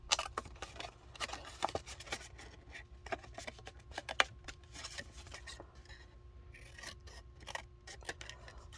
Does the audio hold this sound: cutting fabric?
yes